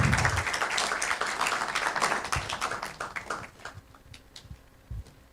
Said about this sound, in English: Let's just give her